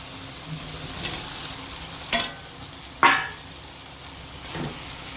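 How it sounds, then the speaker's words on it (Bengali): Soya chunks and potato dropped into hot oil and spice masala in a Bengali home kitchen, giving a low steady sizzle with a few sharp stirring scrapes and clatters, fairly close and with no voices. "এই পর্যায়ে আমি সয়াবিন আলুটা দিয়ে দেব।"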